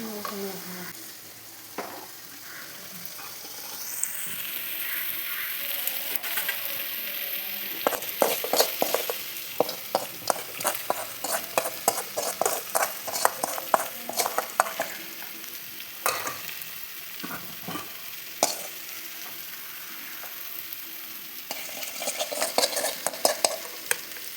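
Cucumber buttermilk curry (pulissery) being stirred in a pan on the stove, with a steady run of spoon scrapes and gentle sizzling that grows busier midway, heard alone without talk.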